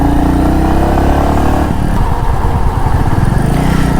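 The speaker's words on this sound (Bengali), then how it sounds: "সাউন্ড তো একদম আপনাদের প্রেমে ফেলে দেবে এই বাইকটির।" Royal Enfield motorcycle engine running steadily and loud throughout, a deep low thumping idle that shifts into a rougher pulsing rhythm midway, heard alone with no voices.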